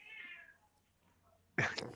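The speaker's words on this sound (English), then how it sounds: "Has the cat got an opinion?" A cat gives one short, fairly faint meow at the start, followed by quiet room sound and then a sudden louder burst of noise.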